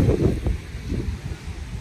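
Steady wind gusting across a Baltic beach at Ustronie Morskie, Poland, in summer, rumbling low and close against the microphone in uneven pulses with no voices.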